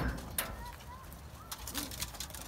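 Pigeons cooing in a coop, with soft, low, rounded coos repeating at intervals against quiet background rustle and a brief wing flutter.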